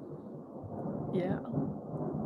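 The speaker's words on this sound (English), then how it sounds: "Thunder." Low, rolling rumble of thunder building and swelling in the distance, with a short spoken word passing over it.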